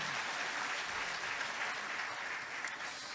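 A church congregation at a New Year's Eve service claps together in a steady, dense wash of applause that fills the room at even loudness, with no voices standing out.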